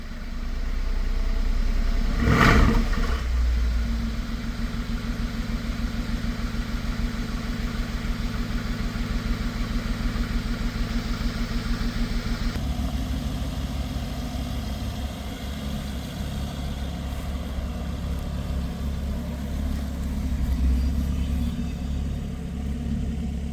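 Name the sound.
BMW engine idling after being revved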